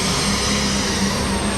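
Super stock pulling tractor at a 1994 NFMS truck pull in Louisville, Kentucky, a loud sustained engine roar with a broad, droning howl.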